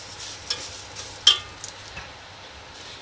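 Vermicelli frying in a little oil in a stainless steel rice pot, a soft, steady sizzle broken by occasional light clinks and scrapes of a stirring utensil against the metal.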